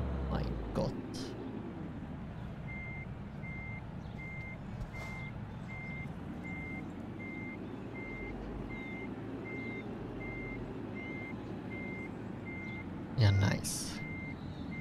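A truck in the Trucks & Trailers driving game sounds a steady, evenly spaced reversing beep over a low engine drone, while someone talks over it near the start and again toward the end.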